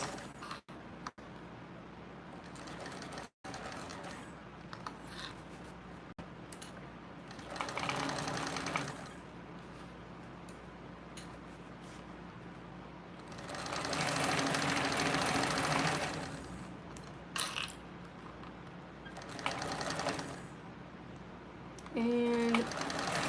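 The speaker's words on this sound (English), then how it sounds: "And now I'm just sewing this at that 3/8 of an inch" A TrailBlazer sewing machine stitches a 3/8-inch seam allowance in long steady bursts of motor whir, with pauses between runs and a brief back-stitch near the end.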